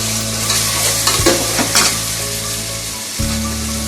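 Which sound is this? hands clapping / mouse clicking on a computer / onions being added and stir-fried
onions being added and stir-fried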